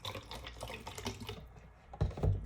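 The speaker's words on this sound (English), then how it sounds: "just enough to rinse out this container" Water runs and splashes inside an emptied vegetable broth container as it is rinsed out. There is a brief gurgling stream, a short pause, then a heavier slosh close by.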